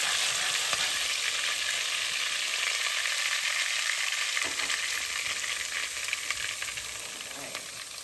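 Garlic frying in preheated oil gives a loud, steady sizzle with light stirring, fading slightly toward the end.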